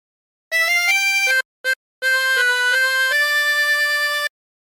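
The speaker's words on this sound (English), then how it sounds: "practice this until you end up with something that sounds like this" A harmonica plays a phrase of Home on the Range: clear sustained single notes, some changing smoothly and one briefly cut off, loud and close with no accompaniment.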